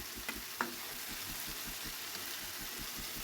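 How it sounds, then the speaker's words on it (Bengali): Chilies and spices frying in a pan, a steady close hiss and sizzle with faint rhythmic stirring thuds and a couple of small clicks early on. "কষিয়ে নিব মরিচ মশলাগুলো"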